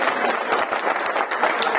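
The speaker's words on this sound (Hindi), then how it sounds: "इनके लिए जोरदार तालियां, और इनकी टीम के लिए जोरदार तालियां।" Loud, close applause from an audience at an achievers' event honouring a car award, with crisp individual claps standing out from the crowd's continuous clapping.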